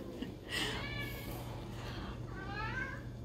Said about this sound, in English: Kitty wants to make an appearance, so here you go